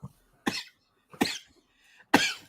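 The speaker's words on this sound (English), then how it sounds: "Why am I coughing?" Three separate coughs, each a short harsh burst with pauses in between, close and fairly loud with quiet gaps.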